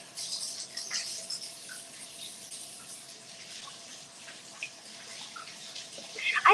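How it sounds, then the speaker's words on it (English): Water runs from a tap in a home kitchen while hands are washed, a soft continuous hiss with light splashing at close range, picking up a louder burst of spray near the end. "Let me wash my hands really quick."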